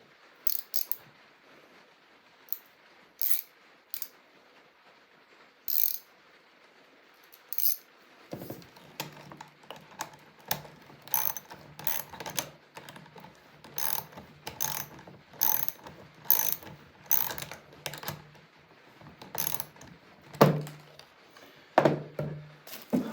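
Ratchet mechanism being loosened on a Preform Coyote dome closure: sparse clicks at first, then a steady run of close, crisp ratcheting clicks in an irregular rhythm.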